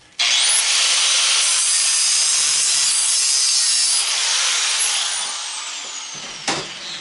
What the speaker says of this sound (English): should I go ahead and change blades in the angle grinder?